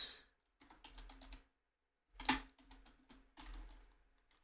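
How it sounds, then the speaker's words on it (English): Fast, close clicking of computer keyboard keys in short uneven bursts separated by brief pauses, quiet overall. "That's very bad typing there."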